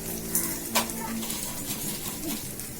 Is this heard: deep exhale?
no